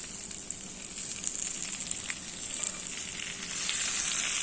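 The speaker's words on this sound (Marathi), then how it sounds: "ह्याच्यामध्ये उकळलेलं तेल गरम गरम जे आहे ते आपण अशा पद्धतीने व्यवस्थित असं टाकून घेणं" Hot boiled oil is poured over a homemade spice mix for raw mango pickle, setting off a steady, close crackling sizzle that swells near the end.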